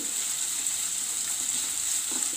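A jackfruit snack mixture sautés in a pan over a medium flame, giving a steady, even sizzle with soft stirring sounds throughout and no talking.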